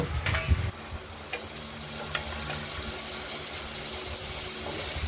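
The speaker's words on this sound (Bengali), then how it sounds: "আলুগুলোকে আমরা ভেজে নেব" Potatoes frying in a pan with a steady, close hiss of hot oil, a few clinks and stirring scrapes near the start, with no one talking.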